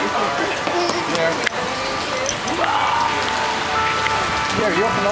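Steady rain pours on a rained-out Christmas in Balboa, a continuous hiss on surfaces beneath several voices chatting and calling out greetings.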